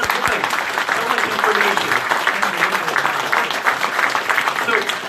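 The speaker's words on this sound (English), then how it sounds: "let's give these guys a round of applause" An indoor audience claps together in a sustained, dense round of applause that holds at steady loudness throughout, with no voices rising above it.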